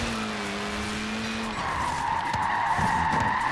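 Mini Cooper drifting in Forza Horizon 4, a sustained tyre squeal over steady engine drone that shifts to a higher, brighter screech partway through, loud and continuous with no talk.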